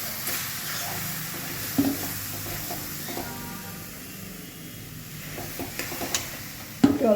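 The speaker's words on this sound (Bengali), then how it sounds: "এবার আমি এটাকে নাড়তে থাকবো আর অল্প অল্প করে জল দিয়ে ডো বানাবো" Semolina being stirred in a pan with water added bit by bit to form dough for sweet rosh puli, making a steady soft scraping hiss with a few sharper knocks, close and fairly quiet.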